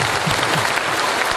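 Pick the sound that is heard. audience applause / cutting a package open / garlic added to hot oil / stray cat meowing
audience applause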